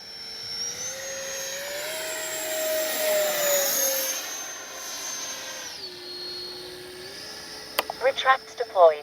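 A Freewing F-4 Phantom II RC jet makes a fast pass on a warm day. Its turbine whines loudly and sweeps in pitch as it rushes past, then recedes, with a few sharp knocks near the end.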